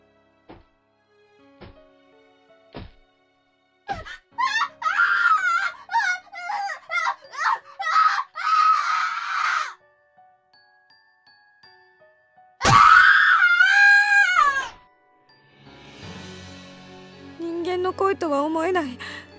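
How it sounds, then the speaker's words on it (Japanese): A boy's piercing, wavering scream from the horror video game Corpse Party rises loudly after a run of shorter cries and groans, with quieter wailing trailing after it. "凄まじい音波のような叫び声"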